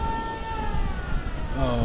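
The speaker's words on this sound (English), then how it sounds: "Okay, there's a siren there." A siren going off in a video game, a loud steady wailing tone with rising and falling pitch sweeps, heard up close throughout.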